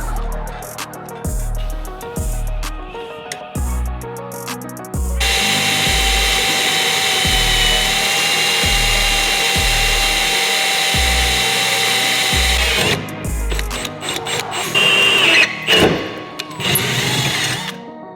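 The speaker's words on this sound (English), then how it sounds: "There'll be a hole drilled there" Power drill boring a hole for a battery tie-down bracket on a 1991 Honda NSX twin-turbo build, starting with short revving bursts, then a long steady whine and a few more brief pulses near the end, close and loud.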